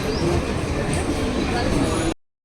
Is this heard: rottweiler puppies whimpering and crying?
no